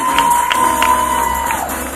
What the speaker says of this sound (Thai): ปรบมือกับมิสโฟโตจินิกของเรา